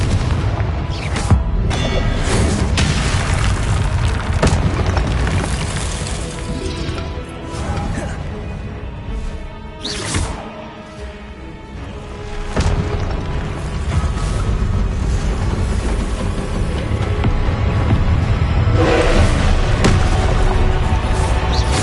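Repeated Confringo blasting-spell explosions in the Hogwarts Legacy video game, loud booming blasts and mechanical clatter recurring across a dense, noisy soundscape with brief quieter gaps.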